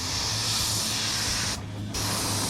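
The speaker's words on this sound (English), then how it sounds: "I love this Iwata airbrush, man. It's just easy, it pumps out" An Iwata airbrush sprays paint in a steady close hiss that cuts out briefly and then resumes, with no voices.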